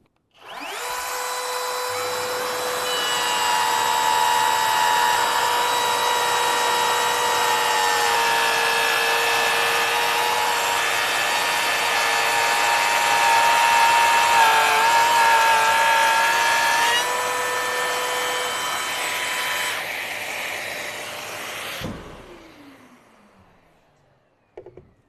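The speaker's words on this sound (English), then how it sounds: "the GLF 18V-8, an affordable edge router and laminate trimmer" A Bosch GLF 18V-8 cordless edge router and laminate trimmer cutting wood, a loud, continuous high whine for about twenty seconds that then cuts off and spins down to silence.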